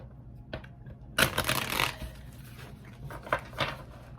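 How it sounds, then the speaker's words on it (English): A small Light Seers Tarot deck is shuffled by hand, with a soft tap, then a burst of riffling card noise and a few fainter shuffles after, close and alone without talk. "I love this little deck, but it's not the easiest to shuffle."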